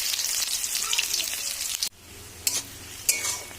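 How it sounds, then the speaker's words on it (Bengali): Onions go into hot oil already frying cumin and dried chilli, giving a loud, dense sizzle that drops off suddenly partway through. Quieter sizzling and a couple of stirring clatters follow, close up. "শুকনো লঙ্কা জিরেটা ভালো মতন ভাজা হয়ে গেছে, দিয়ে দিচ্ছি এর মধ্যে পেঁয়াজ।"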